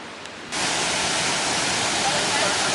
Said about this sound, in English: coming out of the falls, where the falls are dropping into the pond there.